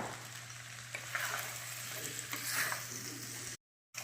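Chicken with crushed black pepper and spices sizzles steadily in a pan, a close, continuous frying hiss with faint stirring, cut by a brief silent gap near the end.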